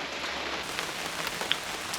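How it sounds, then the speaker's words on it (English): Steady rain pours onto a campground, a dense even patter filling the air with a few sharper drops standing out; no voices. "So even though it's raining"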